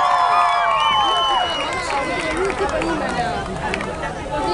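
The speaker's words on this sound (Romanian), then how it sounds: "Aplauze pentru fratele meu, Dodi!" A concert crowd in Bucharest cheers and claps loudly and steadily throughout, a dense roar of voices with shouts and whistles rising over the clapping.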